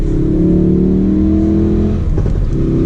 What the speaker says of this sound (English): So this is a turbocharged 4-cylinder.